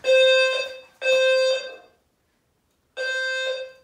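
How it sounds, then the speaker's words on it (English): A low-frequency fire alarm sounder blares in loud, steady buzzing tones, two bursts close together, a gap of silence, then a third burst, heard alone with no talk. "Our low frequency sounder is obviously working. You can hear it."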